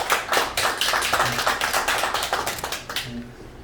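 An audience at an indoor introduction session claps in a brisk, uneven burst of many hands. The applause stays close and lively, then thins and fades near the end.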